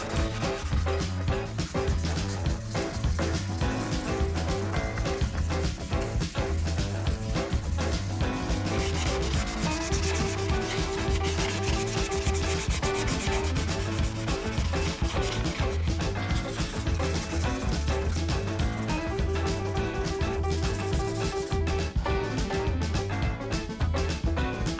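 An oak guitar body is sanded by hand while an oil finish is applied: continuous rhythmic back-and-forth rubbing strokes, close up and fairly even, with no talking.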